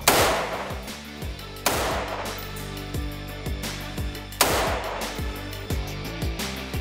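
A DSAR-15P rifle fires on a shooting range: three sharp, loud reports with short ringing tails, spaced a couple of seconds apart, over steady background music.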